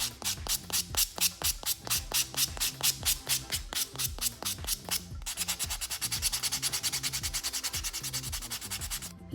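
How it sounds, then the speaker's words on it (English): A buffing block rubs across a fingernail surface, with close rhythmic scratchy strokes, about a dozen slow even passes and then a run of faster, quieter back-and-forth rubbing. "I'm also going to take a buffing block and go ahead and buff the surface of the nail"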